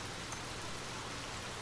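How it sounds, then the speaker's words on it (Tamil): Steady rain falls at a beach, a soft, even hiss of drops with no breaks, fairly faint and without any voices. "இப்போ திடீர்னு மழை பெய்யுது"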